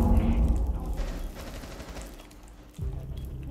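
Rapid gunfire in the Rainbow Six Siege video game, a burst of dense shots loud at the start and fading into a noisy rumble, then another sharp burst near the end.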